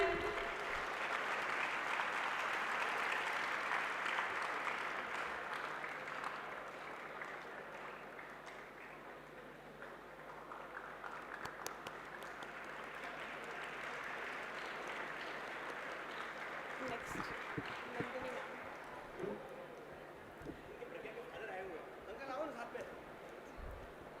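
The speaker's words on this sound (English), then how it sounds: "Give a huge round of applause, ladies and gentlemen." An audience at a felicitation ceremony claps in sustained applause lasting over twenty seconds, dense and even, swelling and easing slightly, with faint voices underneath.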